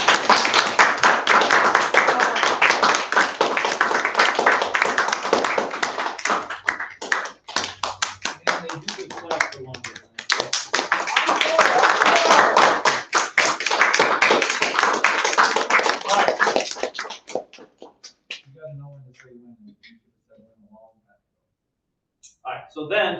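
Students in a classroom clap and applaud in two long sustained bursts, loud and close, trailing off into scattered claps and near silence at the end.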